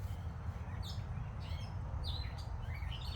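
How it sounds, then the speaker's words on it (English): Birds chirp outdoors in short, bright tweets scattered across a few seconds over a low background rumble, moderately close and fairly faint. "Listen to the birds."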